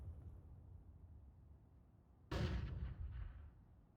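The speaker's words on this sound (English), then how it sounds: "Though the information back means that Ben Leet can send a counter nade" Grenade explosion in Counter-Strike on the Overpass map during an esports match: after quiet low ambience, a single loud, sudden blast bursts in and decays with a rumbling tail, no talking.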